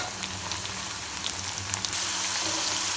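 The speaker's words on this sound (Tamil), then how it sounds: "அது வரைக்கும் நம்ம பொரிக்கலாம்" Steady crackling sizzle of yam slices frying in hot oil, close and continuous, growing a little louder and denser toward the end.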